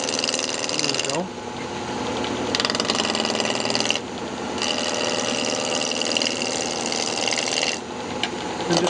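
A wood lathe spins a bandsaw box blank while a tool trues it, giving a steady grinding, rasping cut that is continuous and fairly loud. The cutting pauses briefly twice, and faint talk may sit underneath.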